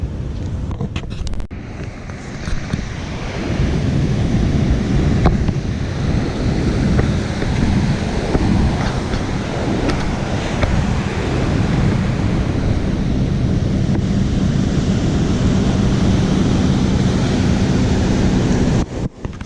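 Surf breaking on a beach with steady wind buffeting the microphone, a loud continuous roar of waves and gusts with no talk, heard while fishing for perch from the shore.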